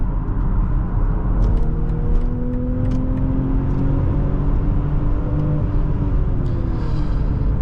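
A 2021 BMW X5 xDrive40i with 335 horsepower accelerates hard on a test drive, its engine note rising steadily through the gear as a loud, close cabin rumble with no talking.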